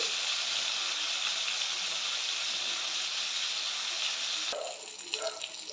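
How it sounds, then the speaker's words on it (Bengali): Katla fish frying in hot mustard oil, a loud continuous hiss and sizzle that holds steady, then drops back into crackling and spitting toward the end. "একটা পিঠ ভালো করে ভাজা হয়ে গিয়েছে, আমি অপর পিঠটা ভালো করে ভেজে নিচ্ছি।"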